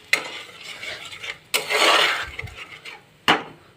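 Milk is added to a spicy masala in a pan while cooking fish curry. A spoon knocks and scrapes against the pot in a few sharp clanks, with a soft stirring rustle and faint sizzle between them.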